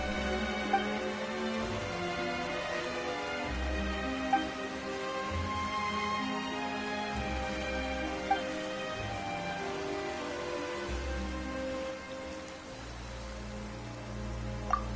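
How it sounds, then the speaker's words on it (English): Steady rainfall in the fantasy video game Genshin Impact, a continuous hiss of drops on surfaces with a few faint plinks, layered over soft background game music with no talking. "Why is it raining all of a sudden?"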